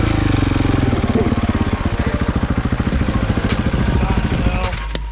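An adventure motorcycle engine runs close by at a low, rapid thumping idle with steady pulsing beats, easing slightly as the bike turns around, with faint clatter and a voice in the background.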